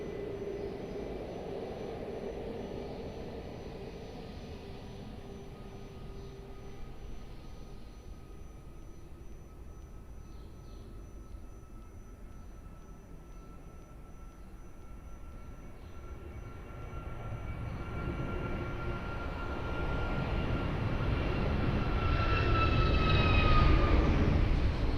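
Airliner taking off at Lisbon Airport: a distant engine rumble with a faint whine fades at first, then builds into a loud, swelling broadband roar over the final seconds, with no talk.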